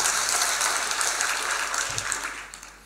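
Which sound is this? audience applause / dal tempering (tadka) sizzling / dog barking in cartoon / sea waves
audience applause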